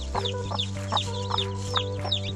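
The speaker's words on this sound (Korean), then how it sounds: "잠시 뒤 캔디와 9마리의 병아리들이 둥지 밖으로 나왔다." A hen clucks in soft repeated bursts while her nine chicks, newly out of the nest, peep high and busily around her, close by, over a low steady hum.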